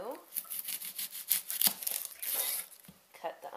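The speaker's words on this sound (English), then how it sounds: "cut the onion up" A knife cuts through an onion for a quick vegetable soup, with crisp tearing crunches and slices in an irregular rhythm, close by, while a person talks over the cutting.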